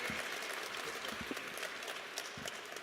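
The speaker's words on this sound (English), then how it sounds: "Clap for him like you like him" Moderate applause from an audience at a university press event introducing a new head football coach, scattered claps forming a steady patter with a few sharper hits, no voices on top.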